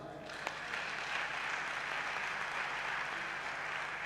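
A church congregation at a Sunday worship service breaks into sustained applause after a sharp opening clap, a dense, even roar of many hands that continues to the end.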